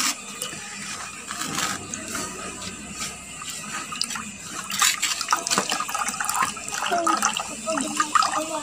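Water pouring into a washroom floor drain fitted with a P-trap, a steady splashing trickle with sharper drips and gurgles growing louder toward the end, heard close up with no talk.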